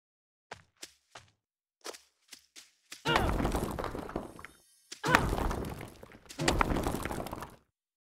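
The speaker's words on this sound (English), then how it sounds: "there's a specific sound for the stone crates when they break" Stone crates breaking in a Unity game: a series of short, sharp knocks followed by three longer, loud crumbling bursts of rubble, separated by brief pauses.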